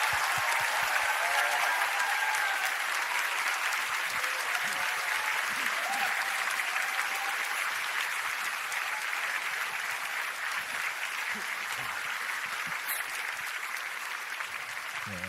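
Sustained, thunderous applause from a church congregation greeting the pastor as he comes forward, a dense steady roar of clapping filling the hall throughout and easing slightly toward the end.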